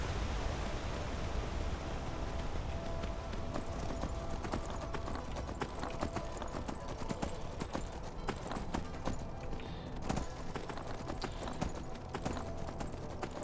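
Horse hooves clip-clop at a steady trot while riding in Skyrim, a continuous rhythmic patter heard up close under a wash of wind-like noise, with no clear talking.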